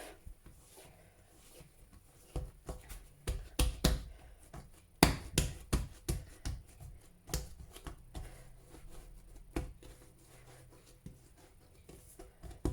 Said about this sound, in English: That's it, knead it for a bit.